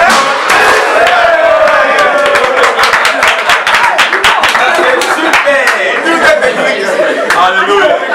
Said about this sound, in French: On acclame pour maman.